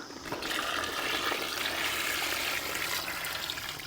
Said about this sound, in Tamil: போட்ட சிக்கனை வந்து தண்ணி ஊற்றிக்கலாம்